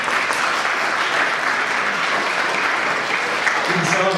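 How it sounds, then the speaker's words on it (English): An audience at a non-traditional graduation ceremony claps loudly and continuously for a named graduate, a thick sustained wash of many hands, with a voice coming in near the end. "You can clap."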